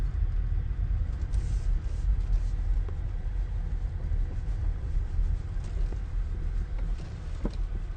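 Electric car rolling slowly up to a roadhouse charger in Australia under grey skies, a steady low rumble of tyres and road noise close by throughout, with no engine note and no voices.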